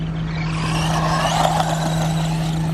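An Eachine EAT11 4WD RC car drives through water with a steady motor whine and a continuous wash of splashing and spray, loud and close with no break.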